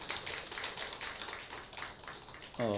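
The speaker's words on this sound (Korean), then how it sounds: "우리 박수 한번 해주세요" A church congregation claps for a pastor's wife at a Christmas thanksgiving service, a fairly quiet, even patter of many hands heard at a distance, ending as a voice begins to speak.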